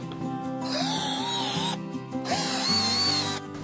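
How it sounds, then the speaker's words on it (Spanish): A power drill bores holes into wood for a drawer cabinet, its motor whining in two sustained runs with rising and falling pitch, close and steady, separated by brief pauses as the bit is pulled out. "He marcado todos los agujeros y ahora voy a taladrar."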